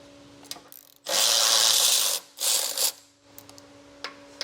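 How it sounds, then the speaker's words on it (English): A 15mm socket, likely on a ratchet, removes the bumper beam nuts on a 2025 Chevrolet during a trailer hitch installation, making two loud, close bursts of rasping, grinding mechanical noise with short clicks between them. "And a 15mm socket is going to get these removed."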